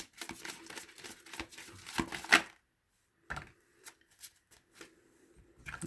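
Tarot cards shuffled by hand in a quick run of crisp riffling flutters, a brief pause, then lighter scattered card flicks and taps, close and fairly quiet with no one talking.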